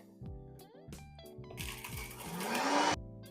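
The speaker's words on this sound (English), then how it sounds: "I'm just going to blitz that in my blender" A blender blitzes garlic-salt-seasoned chicken skin into crumbs, starting with short pulses and then building into a loud, continuous whirring grind that swells for a second or two before cutting off abruptly.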